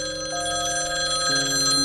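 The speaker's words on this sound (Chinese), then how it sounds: "可就在这时，屋子里的电话铃突然响起" A telephone rings inside a house, a sustained electronic bell tone with steady harmonics that shifts pitch partway through, fairly loud and close, with no talking.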